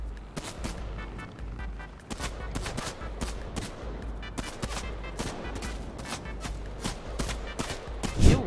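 Gunfire in a Fortnite match, rapid bursts of close shots firing in quick irregular volleys, sharp and loud over a low game ambience, with no speech.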